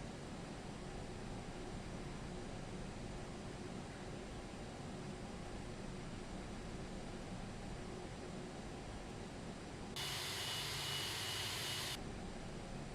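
A Turkish Airlines Aerosoft A330 airliner taxis in the Prepar3D v5.2 flight simulator, giving a steady, loud, broad engine drone that holds throughout, with a brighter hiss swelling briefly near the end.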